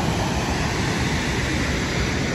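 Fast-flowing waterfall water rushes in a steady, loud, broadband roar with no break, heard close by with no voices over it.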